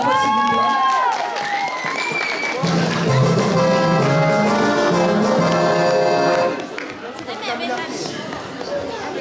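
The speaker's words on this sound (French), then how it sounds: "On peut l'applaudir encore une fois s'il vous plaît" A crowd at a cosplay contest awards ceremony applauds and cheers, a dense roomful of clapping and chatter that swells, then thins into scattered voices and lighter clapping.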